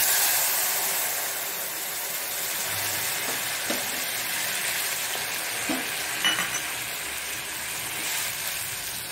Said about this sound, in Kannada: ಇದರಲ್ಲಿ ಎಷ್ಟು ನಾವು ರವೆ ತೆಗೆದುಕೊಂಡಿದ್ದೇವೆ ಅದರದ್ದು 3 ಪಟ್ಟಿನಷ್ಟು ನೀರನ್ನು ನಾವು ಹಾಕೊಳ್ತಿದ್ದೇವೆ ಈಗ.